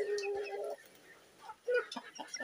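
Backyard chickens cluck close by in short, scattered bursts, with one sustained squawk at the start and fainter clucks following in a quiet setting.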